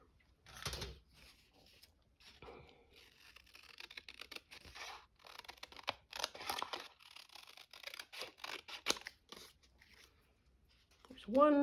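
Scissors trim paper for a spring craft journal in a series of close, crisp cutting and rustling bursts with pauses between them. A voice is heard briefly near the end.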